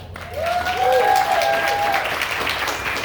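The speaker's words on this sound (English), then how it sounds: "Let's give them an applause" A festival crowd at a composting talk gives a round of applause, steady clapping with a brief high whistle-like tone rising through it.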